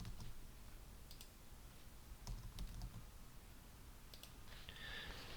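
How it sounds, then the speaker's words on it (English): Quiet typing on a computer keyboard while entering email addresses, with soft scattered key clicks and a few sharper taps, and no voices. "We type in the emails."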